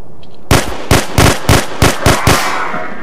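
Gunfire in The Hidden, a Half-Life 2 mod, rings out as about seven loud, sharp shots in an uneven rapid sequence after a short quiet lead-in, each crack close and punchy with a brief tail.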